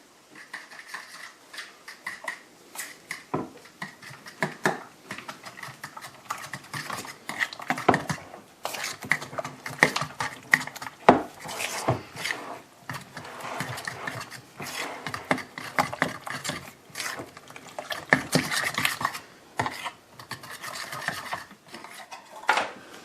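Eggs mixed with parsley flakes for low carb Denver muffins are beaten with a utensil in a bowl, giving a long run of irregular scraping and clinking strokes, close and moderately loud, without talk.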